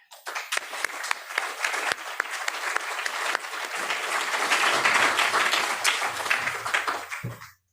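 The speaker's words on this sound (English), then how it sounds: "So I'm asking you to join me in a large round of applause for our host tonight." An audience applauds the host at an evening event on Italy's National Recovery and Resilience Plan, dense sustained clapping that builds, holds steady and then cuts off, filling the room with no speech over it.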